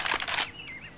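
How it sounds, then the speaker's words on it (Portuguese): Birds chirp in a video game shooter match in a village setting, a brief rising and falling whistle that follows a burst of loud clattering game noise, with no talk. "tem uns passarinhos que cantam aqui"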